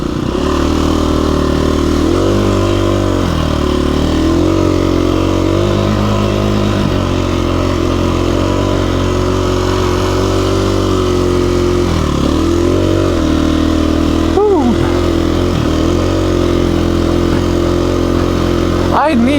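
KTM 350 EXC-f dirt bike engine climbing an off-road trail slope, loud and close with a steady drone and repeated throttle surges and dips, with a voice talking over it at times.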